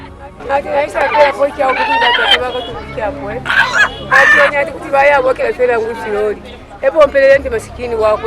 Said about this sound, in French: des poules, des coqs sont offerts aux bienfaiteurs